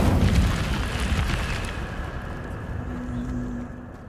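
Incendio fire spell cast in the video game Hogwarts Legacy, a loud whooshing, roaring burst of flame that fades out over a few seconds, ending with a faint low tonal hum.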